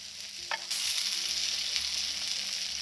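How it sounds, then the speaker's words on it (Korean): Instant rice stir-fried in a pan at a winter campsite, a steady loud sizzle with scraping stirs, a brief clatter near the start, no talking. "여러분은 즉석밥 어떻게 볶나요?"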